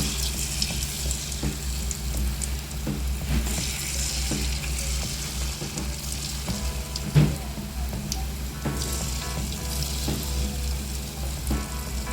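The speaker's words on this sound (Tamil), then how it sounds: "சிம்மில் வச்சு சின்ன சின்ன போண்டாவே போட்டுக்கலாம்" Small balls of Mysore bonda batter fry in oil over a low flame, giving a continuous bubbling sizzle with occasional faint clicks and one brief knock.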